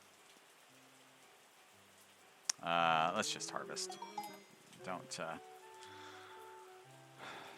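Rain falls in the Terroir wine-making simulator game as a soft, steady patter beneath gentle game music tones, with someone talking briefly in the middle.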